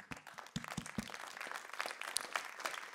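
An audience claps at a citizen-media event, scattered and fairly faint applause with a few distinct claps near the start, blending into a soft, uneven patter.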